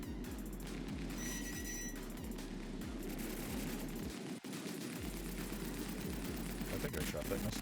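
Rapid, evenly spaced thumping shots from a ship's turret in the space game Star Citizen fire in a steady rhythm for several seconds against a dense background of engine and combat noise, with a brief dropout partway through.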